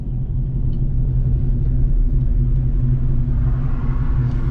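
A 1994-95 Ford Mustang Cobra with headers, cat-back exhaust and an H-pipe, otherwise stock, rumbles at a steady deep idle throughout, loud and close with no talk over it.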